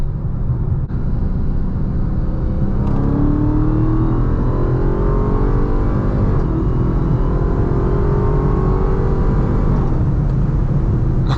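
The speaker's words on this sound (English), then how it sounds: "we're gonna try to get one little acceleration run, since this is a little bit more of a higher speed area, to see how it feels" A Dodge Charger Hellcat Widebody Jailbreak accelerates hard on a faster stretch of road, heard from inside as a loud, continuous engine roar that climbs in pitch through the gears, with no talking.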